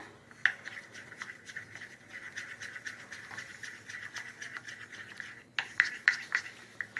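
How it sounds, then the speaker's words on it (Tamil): A spoon scrapes and rubs around a bowl of melted chocolate for a homemade cake, giving a steady close scratching rhythm that pauses briefly and then resumes with sharper strokes. "இப்போ இதை மெல்ட் பண்ணதை கொஞ்சம் நல்லா மிக்ஸ் பண்ணிக்கிறேன்."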